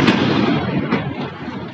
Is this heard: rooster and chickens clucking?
no